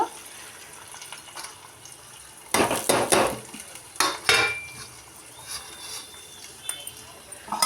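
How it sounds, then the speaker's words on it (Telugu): Curry leaves hit hot oil in a pan for a mushroom masala curry, giving two loud sizzling, crackling bursts over a quieter kitchen background of light clatter, with a voice talking at times. "కరివేపాకు వేసుకుందాం. అవి వేగుతున్నాయి చూడండి."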